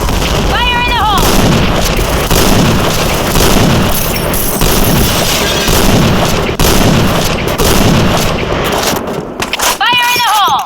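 A grenade explosion and bursts of gunfire in the Point Blank shooter game, with repeated booms and rapid shots running throughout under game voice calls and chatter.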